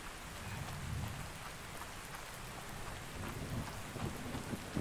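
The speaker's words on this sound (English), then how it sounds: "It feels like it's raining. Even though it is." Rain in the video game ARK Survival Ascended, a steady soft patter with low rumbling that suggests distant thunder, faint and continuous without talk.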